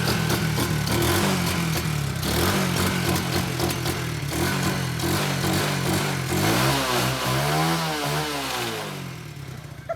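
A cheap $50 quad's small engine running close by, a rough, clattering idle that rises into revving surges and falls back, loud and continuous throughout.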